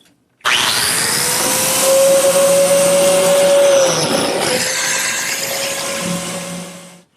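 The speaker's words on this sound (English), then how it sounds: "I've just finished laying out for biscuits, once again to minimize the number of fasteners that show, and now I'll cut the slots." A biscuit joiner cuts slots into a wooden cupboard face frame: a loud motor whine spins up abruptly, holds a steady high pitch under the rough rasp of cutting, dips briefly, then runs on and winds down.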